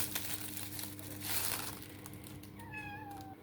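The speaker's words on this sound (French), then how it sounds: "il est parti en courant et il miaule maintenant" A house cat meows once near the end, a short rising and falling cry in another room, after a stretch of crinkling and rustling.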